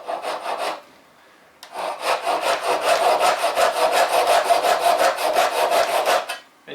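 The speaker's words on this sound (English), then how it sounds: "the hook provides plenty of support whilst you're sawing on the push stroke" A hand saw cuts wood held on a bench hook in steady push strokes, a rasping rhythmic sawing that pauses briefly after an opening burst and then runs evenly close up, with no talking.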